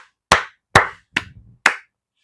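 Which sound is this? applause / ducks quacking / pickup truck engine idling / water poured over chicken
applause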